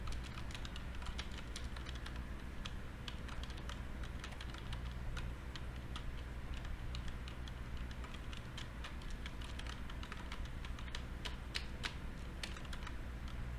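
Steady, rapid typing on a computer keyboard, close and fairly quiet, with dense overlapping key clicks continuing throughout without any voices.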